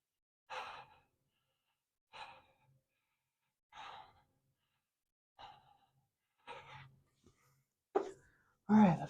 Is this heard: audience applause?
no